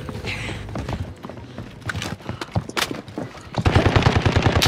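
Gunfire from enemies shooting at the player in a multiplayer shooter video game, bursts of rapid automatic shots with single cracks scattered between them, building to a sustained louder volley at the end.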